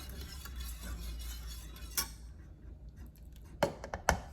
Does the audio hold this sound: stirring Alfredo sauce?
yes